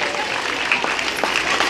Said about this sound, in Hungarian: nagy taps